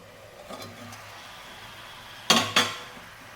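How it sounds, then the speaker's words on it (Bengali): A metal lid is lifted off a pan of ash gourd stir-fry cooking with rohu fish head, giving two sharp, close metallic clanks in quick succession over a quiet kitchen background. "তো এবার আমি ঢাকনাটা উঠিয়ে নেবো"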